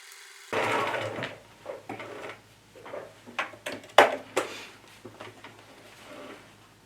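A sewing machine stitches a seam in fabric for a summer hat, its motor whirring in short bursts with pauses between runs, close and moderately quiet, with small handling clicks and rustles.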